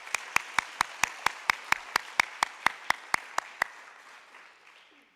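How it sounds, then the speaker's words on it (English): Applause for award winners at an annual meeting comes through as about fifteen evenly spaced close claps, apparently from a single pair of hands, in a steady rhythm before fading to quiet room tone. "One more round of applause for all of these award winners."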